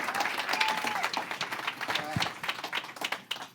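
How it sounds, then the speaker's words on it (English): Audience applauding for a woman named Jennifer after a makeover, a burst of mixed clapping with a few whoops, fairly close and fading slightly, while people speak over it. "Round of applause for Jennifer."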